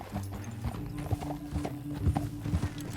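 A horse galloping in the video game Red Dead Redemption 2, rapid rhythmic hoof clip-clops over a low rumble, close and steady for a few seconds.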